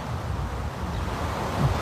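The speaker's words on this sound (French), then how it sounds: "C'est la mer qui est derrière ici, le fleuve, donc il y a beaucoup de vent." Strong wind blowing outdoors by the sea and a river, a steady loud rumbling roar buffeting the microphone throughout with a brief gust swell near the end.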